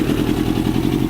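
A custom two-stroke Yamaha Banshee quad with a stage 4 jet kit fires up close by, loud and rattly with a fast, choppy idle pulse right after starting.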